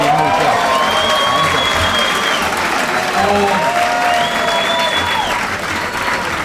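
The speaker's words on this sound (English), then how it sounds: "a lot of appreciation showed here by the crowd" A crowd at a grappling submission match in Oslo applauds steadily, dense clapping with cheers and whistles throughout, while a voice talks over the noise.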